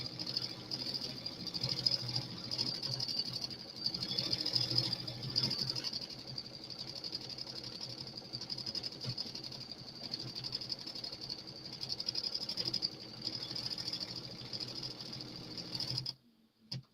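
An embroidery machine stitches out a design with a fast, continuous whirring rattle of the needle, fairly faint but steady for the whole stretch, stopping abruptly near the end.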